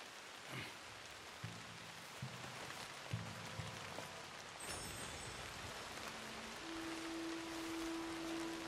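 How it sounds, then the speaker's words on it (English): Rain falls steadily in the video game Red Dead Redemption 2, a faint soft patter running throughout beneath scattered low tones and quiet game sounds, with no talking. "It's still raining."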